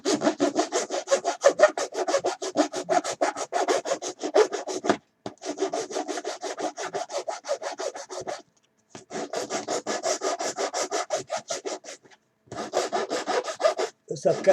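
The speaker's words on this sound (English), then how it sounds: "You lay a sheet of sandpaper on there, just keep rubbing and rubbing" Vacuform plastic kit part rubbed back and forth on a sheet of sandpaper, a close rhythmic rasping in long bursts separated by brief pauses, with no voices.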